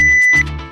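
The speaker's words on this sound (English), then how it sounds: "The buzzer goes off." A Lonsdor K518 Pro key programmer's buzzer sounds during all-keys-lost programming on a 2024 Toyota Avalon, a loud, steady electronic beep held close by before it cuts off.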